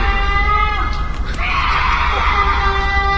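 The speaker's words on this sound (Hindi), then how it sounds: "गुल्ली के मार के कारण वो गुड़िया एक अजीब तरीके से चिल्ला रही है" A doll screaming strangely in a cartoon, a harsh, wavering shriek rising over a continuous backing track and lasting several seconds.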